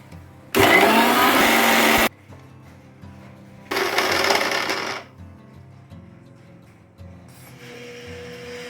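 A mixer grinder whirs loudly in two bursts, about one and a half seconds each, as it grinds Goan prawn balchao masala with a splash of vinegar into a fine paste, with quieter kitchen sounds in the gaps.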